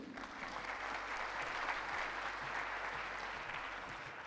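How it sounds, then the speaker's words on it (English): A steady wash of audience applause at a radio and audio industry conference, continuous and moderately loud throughout with a dense crowd texture. "A round of applause, please."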